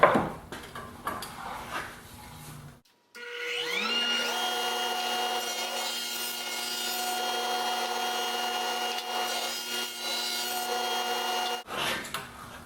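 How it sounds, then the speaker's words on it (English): A 3/4 inch dado blade stack spins up with a rising whine, then holds a steady loud tonal hum while cutting a 3/8 inch deep groove along the inside of a wooden shelf, ending abruptly as the saw stops. "Cut a groove near the bottom of the inside of each shelf, 3/4 of an inch from the bottom, 3/8 of an inch deep"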